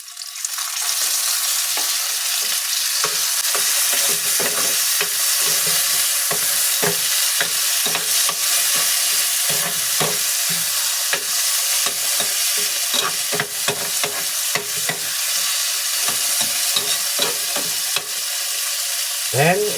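Tomatoes tumble into a corned beef dish frying in a pan, setting off a loud, steady sizzle with scraping stir strokes running throughout, close and without voices.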